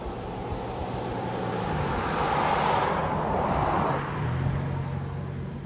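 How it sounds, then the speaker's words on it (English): A single car passes on a road along the Big Sur coast, its engine and tire noise swelling to a broad peak midway and then easing off, with faint rumble lingering; no talking. "I'll let this car pass"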